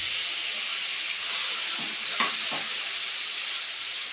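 Tomatoes sauté in a hot pan for rasam, a continuous soft sizzling hiss with a couple of brief stirring clinks partway through, heard close with no talking.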